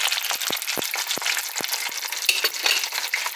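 Gluten-free Vietnamese spring rolls frying in oil over low heat, a close, continuous crackling sizzle with several soft taps or knocks of a utensil scattered through it.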